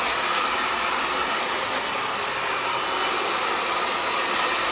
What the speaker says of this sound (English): I'm just gonna take my dryer and just quickly blast in this product